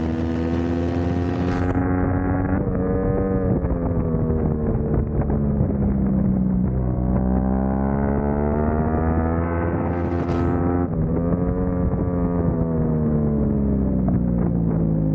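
A racing motorcycle engine roars steadily at high revs on a race track, its pitch rising and falling through gear changes, loud and close throughout with no talk.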